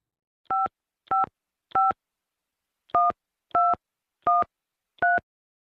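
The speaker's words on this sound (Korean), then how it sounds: "사장님이 잠깐 나가셨는데 제가 전화해 볼게요." Someone dials a telephone, producing seven short, clean keypad tones in an uneven rhythm, close and clear against silence, with no talk.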